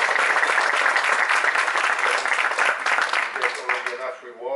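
An audience at a talk on the future of EU-UK relations breaks into applause, a dense, steady patter of many hands that thins out near the end, with a voice faintly underneath.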